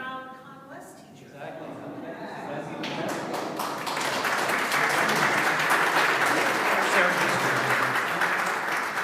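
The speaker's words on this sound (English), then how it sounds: "Let's give them a round of applause." An audience at a city board of aldermen regular session breaks into a round of applause that swells from scattered claps into dense, sustained clapping over a few seconds, with voices beneath.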